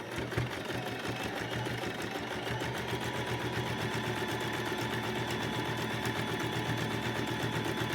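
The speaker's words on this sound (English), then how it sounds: "Make your corner, sew all the way down." A sewing machine runs steadily, stitching down the edge and corner of a pleated cloth face mask, its fast even motor rhythm close and continuous throughout with no talk.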